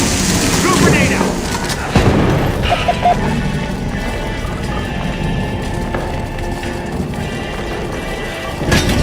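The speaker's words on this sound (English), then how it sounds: "Throwing grenade! Grenade out!" A grenade going off in a video game firefight, a loud booming crash standing out amid dense battle noise, gunfire and shouted voices.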